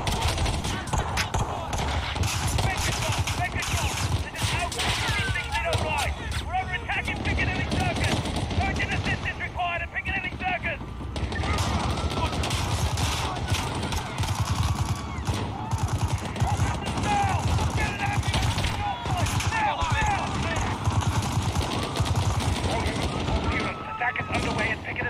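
Sustained gunfire in the Call of Duty: Modern Warfare 2019 campaign at Piccadilly, rapid bursts and volleys crackling almost continuously throughout with heavy low rumble beneath, loud and close.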